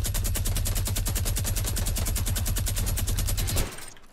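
Sustained rapid automatic gunfire from a Fortnite Battle Royale match, loud and continuous with a steady rattling rhythm for several seconds before cutting off abruptly.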